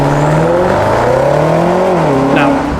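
A 2022 BMW X6M Competition SUV launching hard, its engine roaring loud and close with rising pitch through a quick upshift, sustained without pause.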